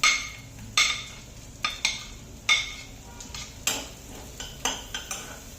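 Onion sautéing in a pan while homemade pasta is made, a soft sizzle beneath a series of sharp metallic spoon clinks and scrapes that come roughly every half second, close and quiet.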